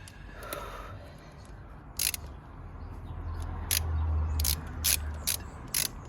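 Ratchet clicking in short rapid bursts while tightening EGR gasket bolts on a 2008–2015 Toyota Avensis 2.0 D4D T27 engine, several separate close, crisp ratcheting runs over a quiet low background.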